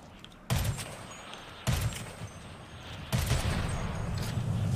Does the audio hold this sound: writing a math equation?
no